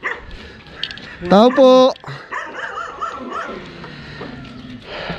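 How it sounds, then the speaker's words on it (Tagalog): A large dog lets out a couple of loud, close barks with a rising yelp, amid people talking nearby. "Lalaki ng aso, tol."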